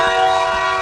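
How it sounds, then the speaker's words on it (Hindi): Cartoon train at a station sounding its whistle, a loud sustained tonal blast held steadily throughout, alone without voices. "ट्रेन चलने वाली है, वो सीटी मार रही है।"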